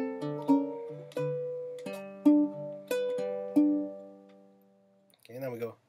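A baritone ukulele plays a short picked lick, single plucked notes and double stops ringing out clearly at a moderate pace, close and alone, ending with a brief scrape of fingers on the strings.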